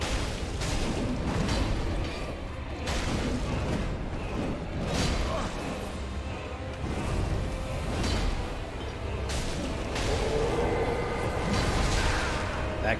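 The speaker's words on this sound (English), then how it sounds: "You have a lot of explosion attacks," A video game boss unleashes explosion attacks in its second phase, with repeated booming blasts and whooshes rolling one after another, loud and dense, with a summoned skeleton ally fighting alongside.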